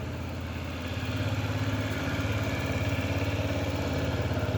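Honda Zoomer scooter engine idling close by, a steady, even low rumble with a regular pulsing beat and no change in speed throughout.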